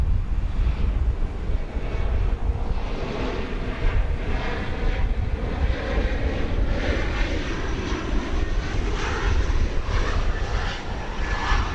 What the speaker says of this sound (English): This is an Embraer 175.